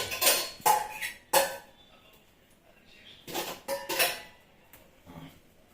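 Several sharp clinks and clatters of dishes and utensils as a small bowl is fetched in a kitchen, coming in clusters with quiet pauses between.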